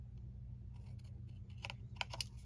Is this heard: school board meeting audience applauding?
no